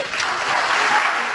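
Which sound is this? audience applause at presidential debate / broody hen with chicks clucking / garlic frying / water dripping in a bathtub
audience applause at presidential debate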